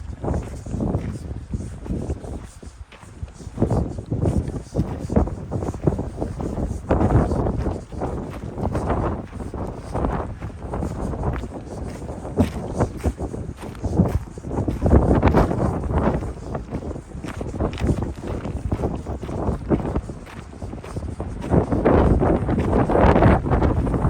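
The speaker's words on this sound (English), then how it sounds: "Man, that is windy. The wind is here, my friend." Strong wind roars and buffets the microphone continuously, a loud rumbling gusty rush with no talking.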